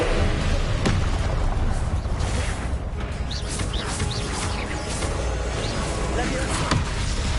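Confringo blasting spell explosions in the video game Hogwarts Legacy, sharp booming blasts amid crackling magical effects and chirpy spell sounds, with a voice speaking over the action.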